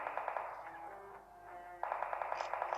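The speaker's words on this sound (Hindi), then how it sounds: "इसी बीच कुछ फायरिंग की आवाज आती है" Video game gunfire comes in rapid automatic bursts with echo, fairly faint and distant, with a pause between two volleys.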